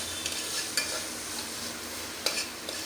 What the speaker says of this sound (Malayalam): ഇനി എല്ലാം കൂടി നന്നായിട്ട് ഇളക്കി യോജിപ്പിക്കാം